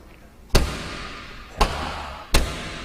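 A tractor cab door slams shut three times at uneven intervals, each a loud hard bang followed by a brief decaying echo.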